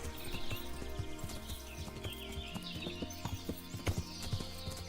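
Horse hooves clip-clop steadily at a walking pace in the medieval game Kingdom Come Deliverance, moderately close, with layered game ambience and occasional louder hoof strikes.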